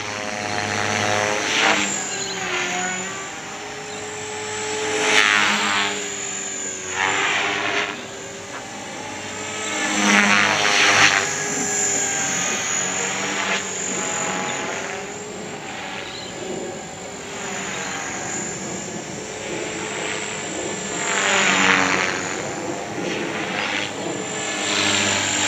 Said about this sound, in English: I just love that sound of the rotors